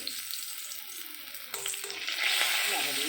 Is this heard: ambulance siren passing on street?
no